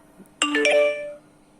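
A bright electronic phone notification chime rings once, a short harmonic ding-dong tone that rises sharply, holds for under a second and fades, heard alone against a quiet room.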